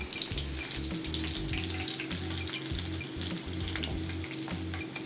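Fennel seeds, a couple of green chillies and curry leaves sizzle and crackle in hot oil for a mutton liver pepper fry, a steady close, busy frying hiss with scattered pops and a low stove hum throughout.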